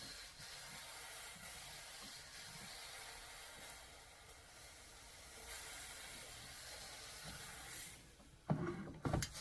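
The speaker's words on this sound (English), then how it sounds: "This is a gravel steam iron." A steam iron hisses in a steady, soft continuous spray while shaping a flat-top hat, quiet and close, ending in a few louder bursts near the end with no talking.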